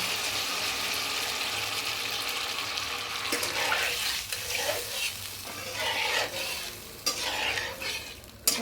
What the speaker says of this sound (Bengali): এবার আমি তো পানি দিয়ে দিচ্ছি